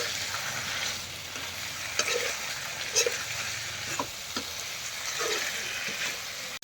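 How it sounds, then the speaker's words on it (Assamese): Chicken meat and potatoes dry frying in a pan, a steady sizzle broken by the clink and scrape of stirring at a few points. "মাংসটো পূৰা ড্ৰাই ফ্ৰাই কৰি আছোঁ।"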